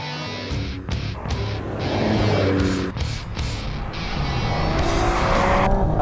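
A Porsche Cayman GT4 RS drives hard, its engine revving loud and close as the tires squeal and skid through turns, the howl rising and falling across the pass.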